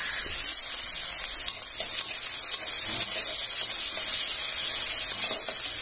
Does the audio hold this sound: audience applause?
no